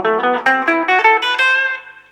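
A guitar picks a quick ascending run of single notes in the B insen Japanese pentatonic scale, about eight clear plucks in a steady rhythm, the last note ringing out and fading.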